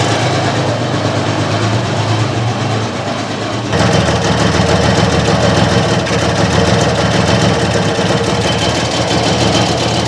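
Peugeot engine running steadily after reassembly, a continuous mid-pitched idle hum that shifts to a fuller, louder drone partway through, with no voices heard.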